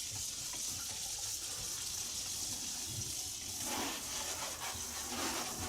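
Brined oysters are rinsed under a running sink tap, giving a steady close gush of water that splashes and changes tone as the shellfish are moved under the stream, with no talk.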